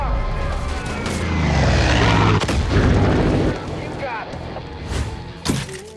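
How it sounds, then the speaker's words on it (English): Heavy booming explosions and mortar-style blasts from the Far Cry 5 video game, a loud continuous rumble with several sharp detonations, the biggest bursts near the end. "start blowing stuff up while Nick brings down the fury"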